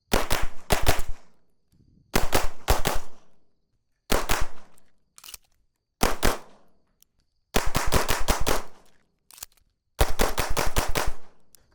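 Rapid gunfire at a shooting range while zeroing a Vortex Defender-ST Enclosed red dot sight, several close, loud bursts of quick shots separated by short pauses, with no talking.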